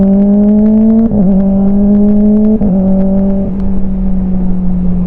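A 250cc motorcycle with an aftermarket exhaust fitted with an oversized big-bike silencer idles loud and close, its steady engine note stepping slightly in pitch with brief throttle blips, no talk.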